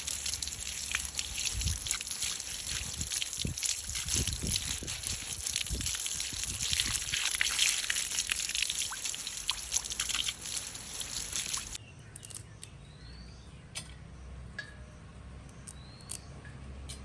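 Water pours and splashes steadily over fresh moringa leaves being washed by hand, a continuous close trickle and slosh that stops abruptly, leaving only faint rustling and light drips.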